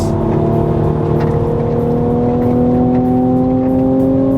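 Mercedes-AMG C43 or C300 lapping Sepang circuit at night, its engine droning loudly with rising harmonic whine as it accelerates, steady and close, no voices over it.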